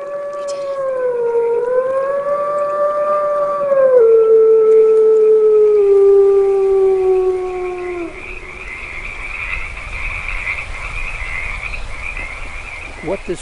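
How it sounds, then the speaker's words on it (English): Mexican gray wolves howl in long sliding tones that rise and fall, several voices overlapping for about eight seconds before fading into night ambience with a higher, fainter wavering howl continuing behind. "we might well hear wolves at night if we're quiet in our camp"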